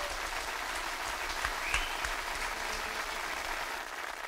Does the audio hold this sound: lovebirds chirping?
no